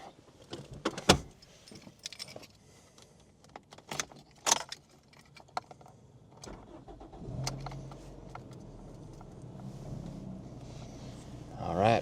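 A 1999 Toyota Sprinter AE114 4WD with a 5-speed: keys jangle and clunk in the cabin, then the engine cranks and catches and settles into a steady idle, with a voice briefly heard.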